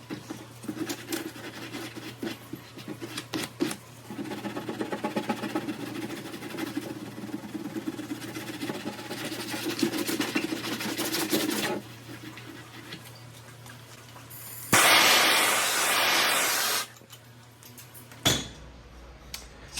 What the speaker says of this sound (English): Using a Harbor Freight plastic welder.